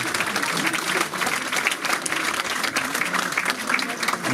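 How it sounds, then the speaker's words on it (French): Loud, dense applause from an audience at a Valentine's Day wedding-style ceremony with the mayor, steady and continuous throughout, with a voice speaking over it. "on peut l'applaudir très très fort"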